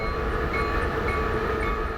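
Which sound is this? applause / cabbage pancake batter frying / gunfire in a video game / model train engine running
model train engine running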